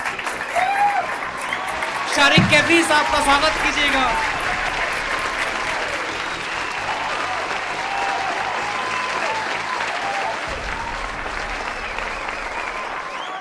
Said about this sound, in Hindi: दोस्तों एक बार खड़े होकर जोरदार तालियों के साथ